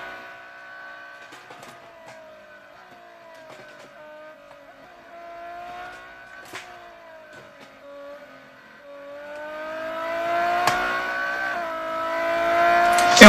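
Engine sound of a Ferrari 599 GTO in the racing game Real Racing 3 climbs through repeated rising revs with gear changes, thin and fairly quiet at first, then growing louder toward the end.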